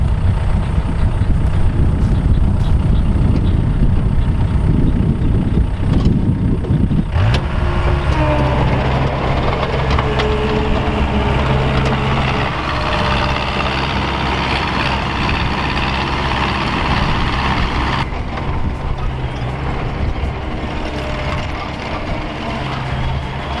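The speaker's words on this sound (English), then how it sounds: "right now I'm gonna get back on the skid steer" A skid steer loader engine runs steadily, a loud, close diesel rumble that holds for the whole stretch with only small shifts in tone.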